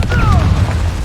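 A fiery explosive spell blasts in a video game: a low, booming rumble lasting about a second, with a short whistling tone sweeping downward through it.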